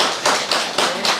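Hand claps sound at a scholarship presentation ceremony as four evenly spaced, bright, sharp bursts, fairly close and with no voices over them.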